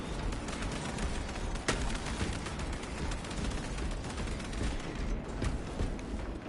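Dense gunfire rattles in Warhammer 40K: Space Marine 2, a loud continuous barrage of overlapping shots with one sharper crack standing out early.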